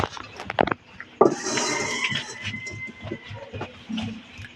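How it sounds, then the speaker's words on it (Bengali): A metal kadai set down on a home gas stove clanks sharply once, close by, followed by a faint steady hiss of the burner and small kitchen knocks. "এবার কড়াটা বসিয়ে দেব"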